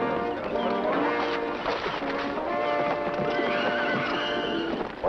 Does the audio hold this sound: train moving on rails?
no